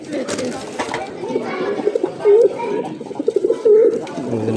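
Soft, close cooing from a pair of fancy pigeons, male and female, repeated low throaty coos rising over a steady murmur with some faint voices nearby.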